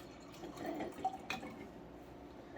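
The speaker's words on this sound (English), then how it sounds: "once I get done pouring it" Homemade cider being poured into a glass, a quiet soft trickle with a few faint drips and clinks, heard alone at low level.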